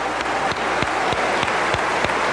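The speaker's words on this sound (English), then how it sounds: "Dr. Ben Chavis, let's give him another warm round of applause." Audience applause at a 1993 religious speech event: a steady, dense wash of clapping from a large crowd that stays loud and even throughout, with no voices over it.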